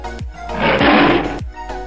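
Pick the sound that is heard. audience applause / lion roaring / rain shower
lion roaring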